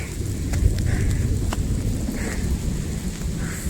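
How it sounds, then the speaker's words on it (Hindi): Heavy rain pours steadily in a dense, close wash of noise over farm fields, with strong wind and a few sharp drips and patters standing out. "और ज़्यादा बारिश होने लग गई है"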